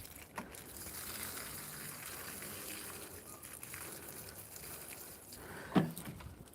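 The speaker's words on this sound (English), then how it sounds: "Just water them a sec." Blueberry plants on an allotment plot being watered, a steady soft gush and patter of water running on fairly close, at a low level, with a brief louder splash near the end.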